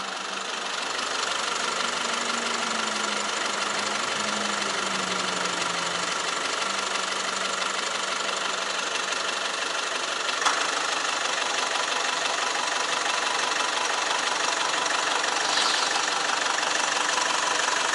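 A car engine runs at idle after a lithium iron phosphate battery swap. It makes a steady, moderately loud drone close by with a faint wavering tone, and no voices are heard.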